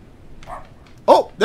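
A dog in the Night Delivery PC video game gives a couple of close, loud barks, a softer yip first and then a sharp double bark near the end.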